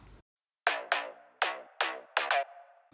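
A synthesized saw-wave bass plays six sharp plucked notes with quick decays in an uneven rhythm, alone and fairly close, after a brief low hum and silence.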